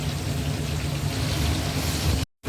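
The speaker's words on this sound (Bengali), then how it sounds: "তেল আমাদের পুরো রেডি হয়ে গেছে এর মধ্যে দিয়ে দেবো আমরা আলুটা" Potato pieces dropped into hot, well-heated oil, giving a steady, loud sizzling hiss that holds evenly before cutting off abruptly near the end.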